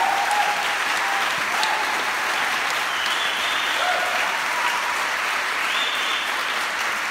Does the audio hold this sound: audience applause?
yes